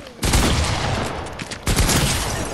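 Rapid video-game gunfire rips out loud and close in two dense bursts, the first lasting over a second, then a brief lull before a second volley starts.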